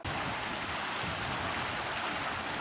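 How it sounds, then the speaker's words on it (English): Floodwater rushing through a normally bone-dry creek ahead of an expected flood, a steady broadband roar of moving water filling the whole stretch evenly and continuously, with no speech. "Here, I can hear the water, so I know that it's getting a lot deeper."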